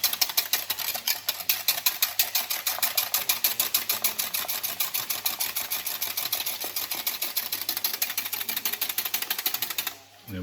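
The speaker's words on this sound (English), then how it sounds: "I'm just going to take a little balloon whisk and whisk this together." A balloon whisk beats a carbonara egg mixture in a bowl, making fast, even ticking strokes several times a second. The whisking stays close and steady for about ten seconds, then stops abruptly.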